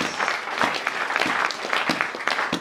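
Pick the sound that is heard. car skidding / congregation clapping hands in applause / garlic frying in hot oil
congregation clapping hands in applause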